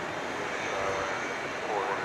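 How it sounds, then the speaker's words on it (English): An Airbus A319 flies over DFW airport at night with a steady, broad engine roar that swells slightly near the end, heard from the ground with a voice speaking over it. "that was a plane to Chicago, flight 578, an Airbus A319"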